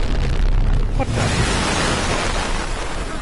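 An EMP blast hits the player in Battlefield 4's Shanghai level as a sudden loud rumbling burst, followed by a roaring, hissing wash of noise that fills the short stretch with no clear talk.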